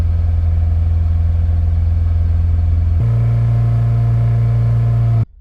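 Toyota MR2 Spyder engine idling steadily, heard from inside the cabin after firewall sound-proofing, a loud continuous low hum that steps slightly higher in pitch partway through, then cuts off abruptly.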